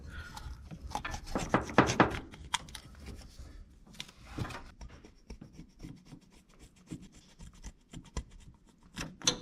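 A razor blade scrapes an old gasket off an engine pump on a 1970 GMC being rebuilt, with a run of rapid, close rasping strokes followed by quieter, scattered scratches and ticks.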